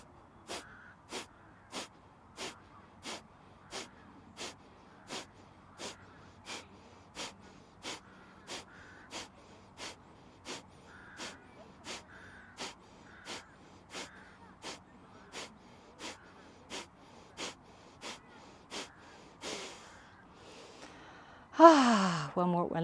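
Forceful rhythmic exhales through the nose in a core breathing drill, about thirty short sharp puffs at an even pace, close and clear, ending in a louder burst.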